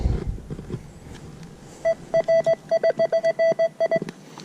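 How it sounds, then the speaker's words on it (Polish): A metal detector signals a coin with a series of short, evenly pitched electronic beeps that repeats rapidly about a dozen times over faint outdoor background noise. "Mamy fajny sygnał na monetę."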